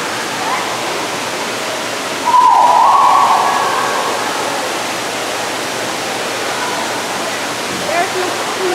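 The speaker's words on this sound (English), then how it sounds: "Do you love a good waterfall?" A waterfall in a zoo duck exhibit produces a constant, full roar of falling water, with a brief higher-pitched tone rising over it partway through.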